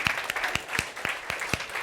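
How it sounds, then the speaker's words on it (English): A small group claps together in a steady rhythm, about a dozen even, sharp claps over a couple of seconds, moderately near, with no talk. "but for that I'll clap for you guys."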